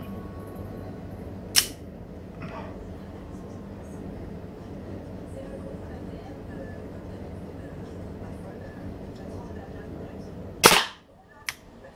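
An Umarex Glock 17 Gen 5 T4E .43 calibre pistol fires balls into cardboard, two sharp isolated shots several seconds apart over a low background hum.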